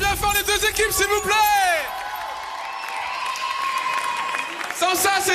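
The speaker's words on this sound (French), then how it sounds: "On peut applaudir bien fort les deux équipes" A crowd at a 2010 street dance competition applauds two dance teams. The clapping mixes with whoops, cheering and shouted voices, then a quieter stretch follows before the noise swells again.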